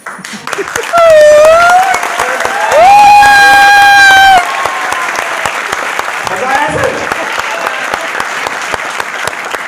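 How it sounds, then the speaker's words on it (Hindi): Loud applause fills the room, a crowd clapping hard and steadily, with excited shouts and voices rising over it. "इतनी तेज ताली बजाओ"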